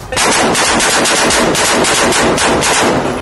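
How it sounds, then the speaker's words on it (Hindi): Rapid automatic gunfire from Israeli soldiers' rifles during a raid on a Hamas stronghold, sustained loud bursts of overlapping shots filling the whole stretch with no voices. "हाथों में बंदूकें लेकर हमास के गढ़ में दौड़ते इजराइल के सैनिक बीच बीच में गोलियां चलाते भी दिखे।"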